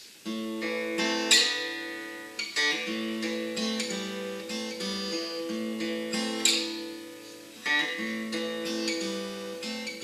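A melodic guitar line playing the M*A*S*H theme, notes sliding and hammered on, ringing phrases repeating in a steady pattern, clear and close with no voices.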